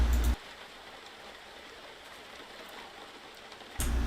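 Synthetic rain sound effect generated in the Godot game engine, a soft, steady hiss of dense patter that continues evenly for several seconds between louder bursts at the start and end.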